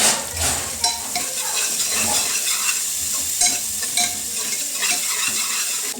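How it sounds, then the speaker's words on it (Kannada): Sliced onions with a little salt fry and sizzle steadily in a pan, a continuous close hiss broken by repeated stirring scrapes and light clinks of a utensil against the metal. "ಈಗ ಚೆನ್ನಾಗಿ ಫ್ರೈ ಮಾಡ್ಕೊಳ್ಳುವ. ಕೆಂಪಾಗುವವರೆಗೆ ಫ್ರೈ ಮಾಡ್ಕೊಳ್ಬೇಕು ಇದನ್ನು."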